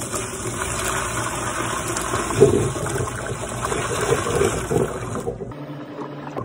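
Water pouring into a bathroom sink where a curly wig soaks in conditioner, a steady rushing and gurgling drain sound that runs continuously and then cuts off abruptly near the end.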